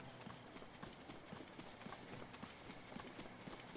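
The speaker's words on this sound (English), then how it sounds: "maybe we can actually take our horse for a ride" Horse hooves clip-clop in a steady galloping rhythm while riding in The Legend of Zelda: Breath of the Wild, close and continuous over game background sound.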